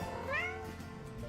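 A cartoon cat meows once in the video game Find Matt's Cats, a short rising-then-falling cry heard clearly over a faint steady game background, with no talking.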